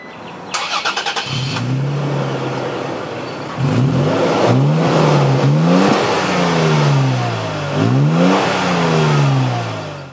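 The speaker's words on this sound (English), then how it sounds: "And now inside the truck, I'll go ahead and put my foot on the brake and start it up." A 2017 Toyota Tacoma TRD Pro pickup truck cranks over and its engine catches, then gets blipped through several sharp revs that rise and fall between steadier idling, close and loud with no talking.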